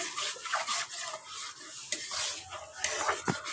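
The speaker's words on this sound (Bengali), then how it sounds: "নাড়াচাড়া করে দিতে হবে" A spoon scrapes and stirs spices in a wok for a vegetarian bottle gourd and potato curry, giving irregular metallic rasps and clinks close by, with faint sizzling and no talking.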